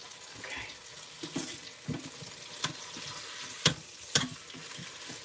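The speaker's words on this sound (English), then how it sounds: "See, we definitely want to get that skin nice and browned." Chicken skin browning in an Instant Pot, a steady close sizzle broken by a few sharp clicks and scrapes of a utensil against the pot.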